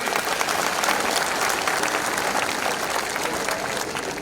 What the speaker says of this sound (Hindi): आप एक बार सब अतिथियों को एक बार ताली बजा देगा